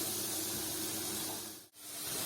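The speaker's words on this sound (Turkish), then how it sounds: "Şimdi patatesleri kızarmasını bekliyoruz." Potato pieces sizzle steadily in hot oil, a soft, continuous hiss that dips to near silence for an instant before resuming.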